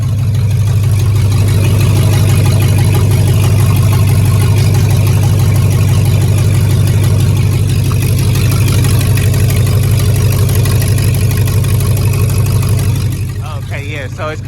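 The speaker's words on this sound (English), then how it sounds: "But this thing has definitely got an exhaust leak." A Chevrolet Silverado pickup idles with an exhaust leak at the header, giving a loud, steady low rumble that runs unbroken and eases off slightly near the end.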